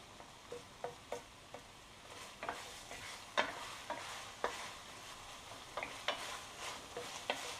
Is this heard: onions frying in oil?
yes